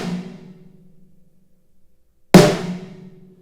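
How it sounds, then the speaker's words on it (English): Snare drum rim shot striking rim and batter head together: two sharp, loud cracks about two seconds apart, each ringing out and decaying, close and alone. "This is when you hit the rim and the batter head."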